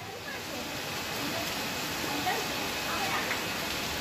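Heavy downpour over the streets of Surat, a steady dense broadband hiss of rain that holds level throughout with no break.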